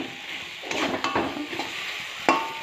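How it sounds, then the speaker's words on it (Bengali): Clam curry being stirred and sautéed in a pan, with scraping and sizzling as a utensil moves through the food, including a few sharper clinks against the pan; no talking. "নেড়ে দিচ্ছি, হালকা নেড়ে দেবো। কিছু দেওয়ার পরে এভাবে কষিয়ে নিচ্ছি"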